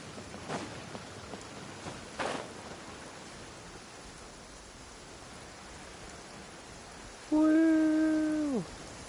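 Steady rain hisses as a broad, even wash in the video game Genshin Impact, with a couple of soft thumps early on and a brief tonal game sound near the end.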